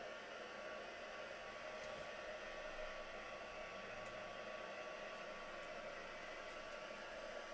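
A hair dryer blows over texture paste on an artwork, a constant, faint whooshing hum that holds steady throughout with no talking.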